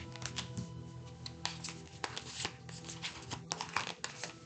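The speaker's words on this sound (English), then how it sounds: "I could have sworn I shuffled these cards." Playing cards riffled and shuffled in a series of quick crisp flutters and soft slaps, close and moderately loud, with a low steady tone running underneath.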